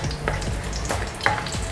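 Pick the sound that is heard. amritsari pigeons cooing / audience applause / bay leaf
bay leaf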